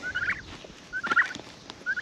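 Turkeys gobble in a backyard beside an irrigation setup: three rapid, warbling bursts spaced across a couple of seconds, fairly close and clear over quiet outdoor background.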